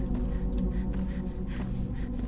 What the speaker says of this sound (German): Da atmet doch jemand.